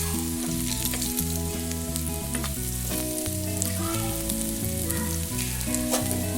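Baby potatoes fry in hot oil for a potato curry, giving a steady, close sizzle that runs without a break over a constant musical backing.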